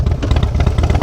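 Deep, loping idle of a Harley-Davidson Wide Glide FXDWG motorcycle with a 200 rear tyre, heard close and loud with an uneven, pulsing rhythm of low exhaust beats.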